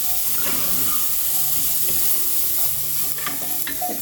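Shallots and bacon frying in a pot over medium heat, a steady close sizzle with occasional stirring scrapes and clinks, no one talking.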